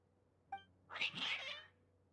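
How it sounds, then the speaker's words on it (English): A cat in the Genshin Impact video game gives a short chirp followed by a drawn-out, wavering meow that lasts about a second, close and clear against a quiet backdrop. "Aww, the kitty."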